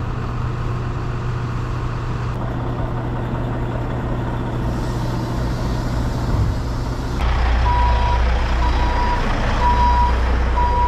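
A truck reversing while being loaded, with a repeating electronic backup beep sounding at a steady rhythm over a low engine idle and shifting rumble, with no talking.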